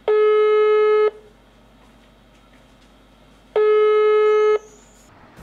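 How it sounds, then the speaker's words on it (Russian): Two long electronic tones sound from a telephone line as a call goes unanswered, each about a second long, clear and steady, with a couple of seconds of near silence between them. "В назначенное время ее телефон не отвечал."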